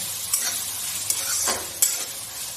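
Washed coriander stems being stirred into a pot of lemon coriander chicken soup, a soft steady sizzle with three brief scraping strokes of a spoon, close and without voices.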